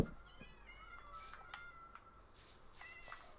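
Cats meowing in the Minecraft video game, several short high meows scattered over a low background hum, some overlapping, moderately loud and with no speech.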